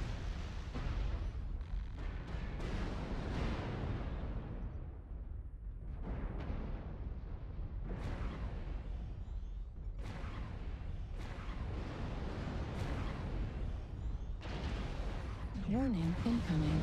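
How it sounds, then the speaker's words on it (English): Heavy booming missile explosions and weapon impacts from the MechWarrior Online video game, a dense continuous barrage of deep rumbling blasts, loud and close, with intermittent synthetic voice warnings over it. "Warning, incoming missile."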